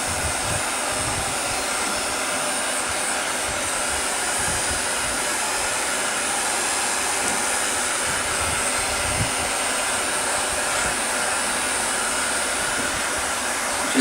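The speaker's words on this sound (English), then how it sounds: "keep the blow dryer or the heat gun moving along the leather" A blow dryer or heat gun runs steadily as it is moved along leather riding boots, giving a constant, close, loud blowing roar with no pauses and no talking.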